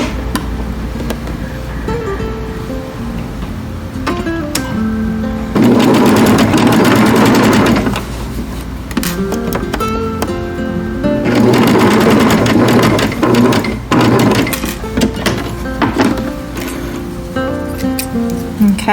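Domestic sewing machine stitching binding onto a quilt, running in two loud sustained bursts of rapid mechanical stitching with quieter handling and motor hum between them.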